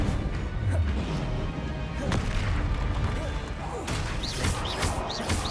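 Spell blasts from the Hogwarts Legacy game: crashes, whooshes and booming impacts pile up in a noisy fight, with several bright magical chimes near the end.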